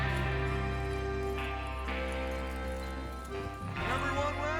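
Hooves clip-clop rhythmically beneath a steady musical drone, with a horse's whinny mixed in; synthetic, game-like mix from Red Dead Redemption 2, moderately loud.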